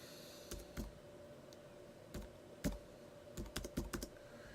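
Keys tapped on a computer keyboard while entering a date, a few scattered clicks followed by a quicker burst of five or six keystrokes near the end, close and fairly quiet over a low steady room hum.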